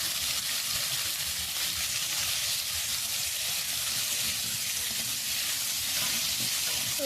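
Potatoes frying in a pan give a steady, dense sizzle and crackle that holds evenly throughout, close and loud, with no voices.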